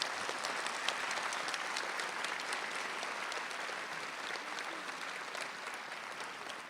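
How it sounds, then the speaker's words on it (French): An audience gives sustained applause for three music teachers playing violin, piano and guitar at a community New Year's greetings event, a dense, even clapping that fills the room steadily from start to finish. "Sous vos applaudissements très forts."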